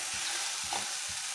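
Paneer masala curry with fresh coriander being stirred in a pan, a low soft scrape and shuffle repeating about three times over a steady sizzle of frying.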